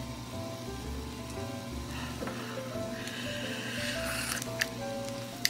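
Fish cake soup with seaweed simmering in a pot, a steady soft bubbling and popping hiss that runs continuously and fairly close, with small sharper pops near the end.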